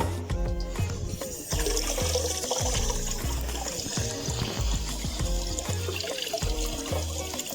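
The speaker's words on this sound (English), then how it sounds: "why can't I get cold water out the taps?" Running water from a college kitchen or bathroom tap, a steady rushing flow, close and fairly loud, with rhythmic low thumps and clatter throughout and no speech over it.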